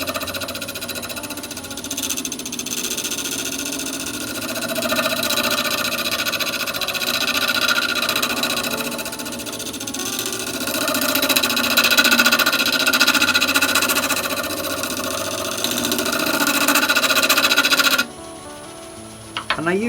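A wood lathe spins a segmented maple and sapele bowl at about 750 rpm, a steady whirring hum with rasping tool contact that swells and fades until the machine cuts out abruptly near the end.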